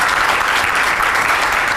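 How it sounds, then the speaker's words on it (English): Sustained, loud audience applause at an International Women's Day awards confluence, steady dense clapping filling the whole short stretch with no talk over it. "So let's have a loud applause for ourselves"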